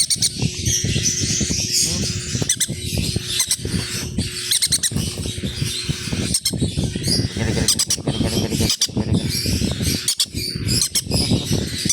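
Green-cheeked conures chirp and squawk nonstop at close range, a busy, overlapping chatter of sharp calls with short bursts of louder squawks throughout.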